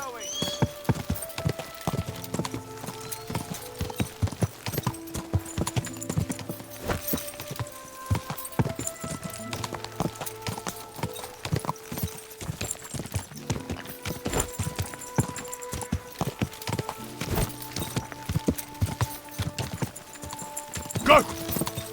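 Steady clip-clop of horse hooves on a hard surface, a continuous rhythmic clatter with voices speaking over it.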